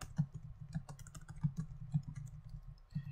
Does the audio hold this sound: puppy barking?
no